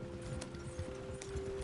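In Red Dead Redemption 2, horses gallop with a quiet, rapid clip-clop of hooves beneath a steady low hum, faint and continuous across the stretch.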